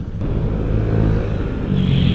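Motorcycle ride as a passenger on a free-ride motorbike service in city traffic: a steady, close engine rumble with road noise throughout, rising slightly near the end, and no talking.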